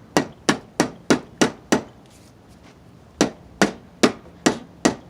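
Heavy hammer blows ring out on a car engine part during valve cover gasket work: six quick evenly spaced strikes, a pause, then five more, loud and close.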